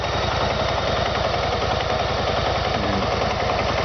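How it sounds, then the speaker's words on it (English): A 2013 BMW 650 GT motorcycle engine runs steadily at idle with an even, close, loud mechanical beat that holds throughout with no voices. "clips on YouTube of this bike running, and it all sounds the same"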